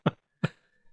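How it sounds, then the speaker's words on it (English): An older man coughs twice in quick succession in a quiet room, two short, sharp, close coughs, followed by a fainter third catch of the throat. "I have to cough."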